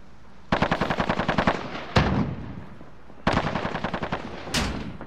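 Close, loud machine gun fire in a Call of Duty: Modern Warfare match comes in four rapid bursts, each a steady rattle of rounds separated by short pauses.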